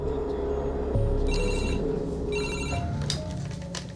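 Telephones ring repeatedly in a busy Paris police station, several trilling bursts over a steady room hum, close and fairly loud, with no talk.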